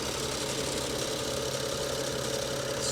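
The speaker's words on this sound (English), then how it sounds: "The fan's going. That's okay. It's supposed to be." A silver-gray salvage car sits with its cooling fan spinning under the hood, a steady low whir and hum that holds constant with no voices.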